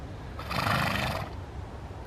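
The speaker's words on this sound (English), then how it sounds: "Found some horses." A horse out in the Medway countryside gives a single rough neigh lasting under a second, fairly close over steady outdoor wind noise.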